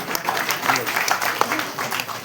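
Scattered hand clapping from an audience at a Tamil film event, sparse and uneven claps mixed with crowd voices and talk over the top.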